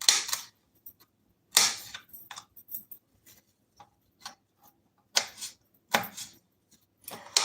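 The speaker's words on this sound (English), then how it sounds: "So I'm cutting up the other onion, other pepper." A knife chops onion and orange bell pepper on a cutting board in a home kitchen, making irregular clusters of crisp, close taps separated by brief pauses, with no talking.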